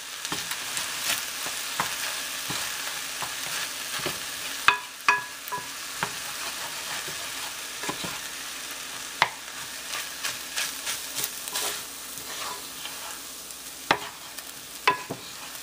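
Fried rice with scallions is stir-fried in a pan, a steady sizzle broken by frequent scrapes and clacks of the utensil against the pan, close up and with no talking.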